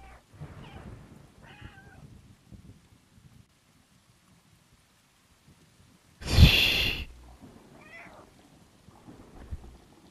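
A single loud, bright cat meow from the video game Stray bursts out midway, surrounded by quiet shuffling and faint background noise.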